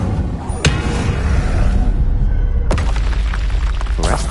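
A fire spell cast in Hogwarts Legacy erupts with a sharp burst, then a rolling whoosh of flames and a second deep boom, loud and close, with magical crackling.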